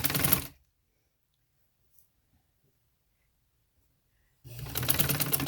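A sewing machine stitches lace onto a girl's sleeve in two short, loud bursts of whirring, one at the start and one at the end, with near silence between them.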